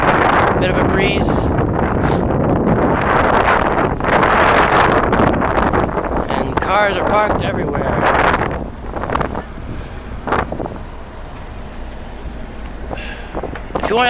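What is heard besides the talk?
wind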